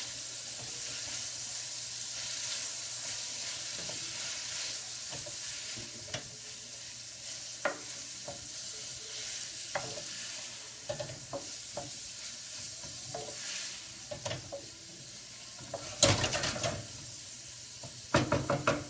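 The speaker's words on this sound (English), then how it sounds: "now we put the cherry pepper. We give a nice turn." Hot cherry peppers sizzling in a pan with pork chops, a steady close hiss of frying broken by scattered scrapes and knocks of a spoon stirring, with louder clatters near the end.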